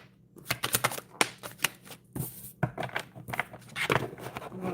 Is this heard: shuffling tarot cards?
yes